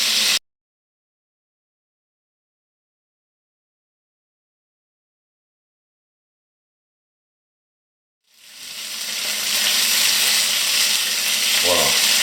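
Chicken sizzles in a pan over low heat, a steady broadband hiss that starts after a long silence and then holds at a constant level, close and without speech.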